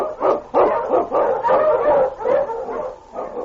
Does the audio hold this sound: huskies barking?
yes